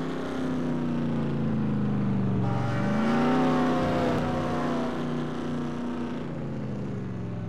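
A race car in a racing video game drones steadily as it comes down pit road at Bristol, its engine tone sliding down and rising again, continuous and fairly loud with no talk.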